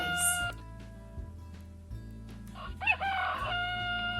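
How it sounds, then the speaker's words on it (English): A rooster crows loudly and close, one harsh rising call near the end over a quiet farmyard background with brief rustles. "The rooster."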